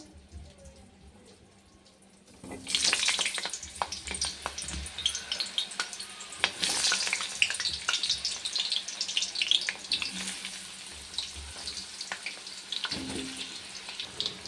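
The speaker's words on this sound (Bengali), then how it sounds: "এই দেখো তেলটা হয়ে গেছে, আলুটা আবার ভেজে নেব।" Large potato pieces fry in hot oil in a wok after a quiet start, then turn into a loud, busy sizzle with bursts of crackling and clattering stirring.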